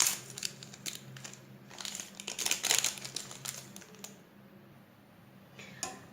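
Someone opens a packet of vanilla sugar in a kitchen, giving close, irregular crinkling and crackling of thin packaging in short bursts with quieter pauses between, and no talk.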